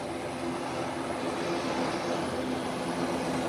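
An American airliner taxis toward the runway threshold, its jet engines giving a steady, loud, sustained roar and whine that holds evenly throughout, with no voices.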